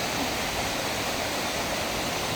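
Sicao Falls waterfall roaring steadily up close, a dense unbroken rush of falling water filling the whole moment.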